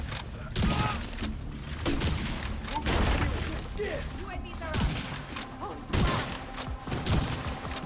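Rapid bursts of gunfire in The Division 2 come in repeated volleys with short pauses between, loud and close, mixed with booms and mechanical clatter.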